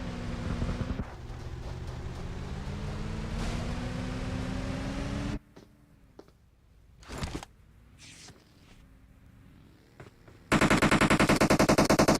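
Gunfire in a shooter video game coming from behind the player: a sustained loud burst of rapid automatic fire, then a quieter stretch with a few sharp shots, then another dense, loud burst at the end.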